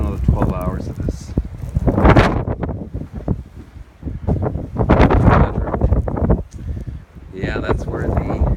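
Strong blizzard wind from the January 2016 Jonas storm roars at Raritan Bay, buffeting the microphone in loud, surging gusts with voices mixed into the rush.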